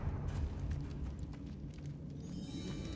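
A Confringo blasting curse fired in Hogwarts Legacy at a barricaded archway sets off a low, rumbling blast that rolls on steadily for a few seconds, with a faint crackle trailing into the end.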